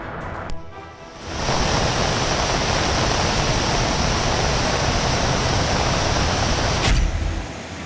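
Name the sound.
floodwater rushing down from the mountains after heavy rain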